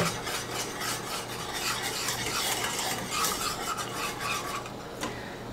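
Flax meal and chia seeds whisked briskly in a bowl for a keto breakfast, a continuous close scraping and rattling stir that runs steadily for several seconds with no voices.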